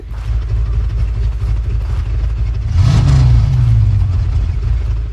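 Automatic Honda Accord with a 2.3 VTEC engine idling close by, a steady low rumble that briefly revs up and settles back down.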